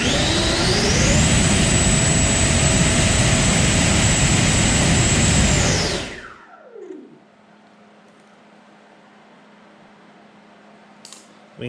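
FMS 2100kv V2 Platinum electric ducted fan in a Freewing F14 on a thrust test, a loud close whine ramping up, holding full power, then spinning down to near silence with faint clicks.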